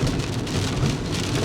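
Rain falls steadily on city streets, a loud, even hiss of drops spattering on surfaces with a faint low rumble beneath, continuous and close with no talking.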